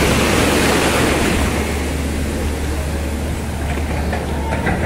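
Strong surf crashes onto Caleta beach in Acapulco during a heavy swell, a loud, continuous roar of breaking waves and rushing water that fills the whole stretch without a pause.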